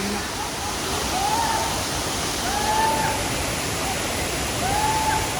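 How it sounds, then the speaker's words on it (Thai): A tall, hard-falling waterfall pours in a steady, dense roar that fills the whole clip, with faint background voices over it. "ก็ถึงน้ำตกเลยครับ โอ้โหสูงมาก ตกแรงด้วย"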